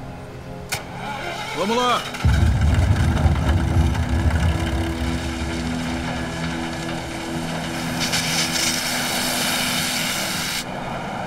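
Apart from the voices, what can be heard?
gold mining wash plant starting up and running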